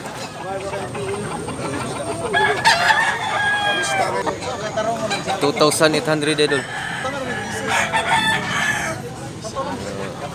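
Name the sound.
bullstag rooster crowing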